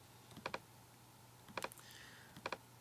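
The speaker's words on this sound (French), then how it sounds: "Je fais édition, effacer ou appuyer sur la touche suppression de mon clavier" A computer keyboard's delete key is pressed in three short, quiet clusters of clicks, each a quick double tap, spaced about a second apart over a faint low hum.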